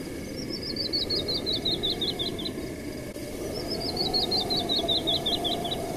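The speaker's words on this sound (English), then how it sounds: "This one's called the canyon wren. It's a songbird found in Western North America." A canyon wren's song in Legend of Zelda: Breath of the Wild, two clear descending cascades of sweet whistled notes that fall in pitch and quicken, heard over a soft steady ambient bed of wind and insects.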